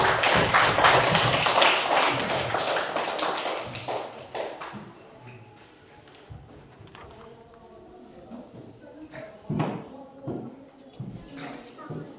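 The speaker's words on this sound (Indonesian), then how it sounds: "Ayo tepuk tangan semua." Students in a classroom clap their hands together in loud, dense applause that fades out after a few seconds, followed by quieter scattered claps and murmuring voices.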